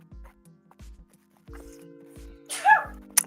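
A single sharp sneeze bursts out near the end, following quiet rhythmic soft thumps and a low steady hum in an otherwise hushed indoor room.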